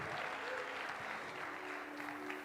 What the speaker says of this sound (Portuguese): Você pode aplaudir o Senhor nessa manhã?